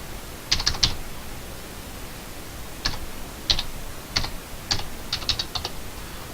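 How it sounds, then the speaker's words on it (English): Fingers type on a keyboard, with short bursts of crisp, clicky keystrokes separated by brief pauses against a faint, steady background hiss. "Now you simply type in your mobile ID"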